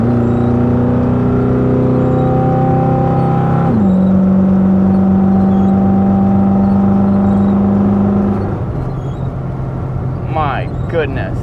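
Car engine fitted with a Quadrajet carburetor on a one-inch spacer revs loudly and close, its pitch rising and then holding steady before the throttle eases off near the end.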